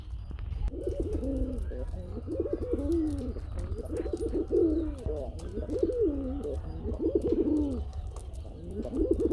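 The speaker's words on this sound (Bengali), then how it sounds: "ডাক দেখতে পাচ্ছেন বন্ধুরা, এটা হচ্ছে বোম্বাই কবুতর" Repeated deep, throaty coos of a Bombay pigeon in a steady rhythm, close by and fairly loud, with faint chirps and background hum.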